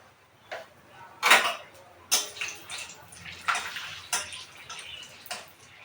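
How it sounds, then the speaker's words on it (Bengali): Bay leaves and dried red chillies sizzle in hot oil with meat, giving a string of short crackling, spattering bursts at irregular intervals, fairly close and moderately loud, with no voices. "দেখুন আমি মাংসতে তেজপাতা আর লঙ্কা ফোড়ন দিয়ে দিচ্ছি।"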